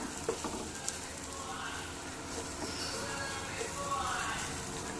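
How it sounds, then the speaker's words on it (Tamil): Masala sizzles steadily as it is stirred in a pan for egg vermicelli biryani, with occasional light scrapes and clicks over a continuous close frying hiss. "இப்போ இதை நல்லா கிளறி விட்டுக்கலாம்"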